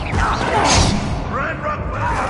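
Incendio and Repulse spells cast in the Hogwarts Legacy video game, a dense burst of whooshing fire and a blunt blast with thuds and crashes layered over busy combat noise, loud and continuous for a couple of seconds.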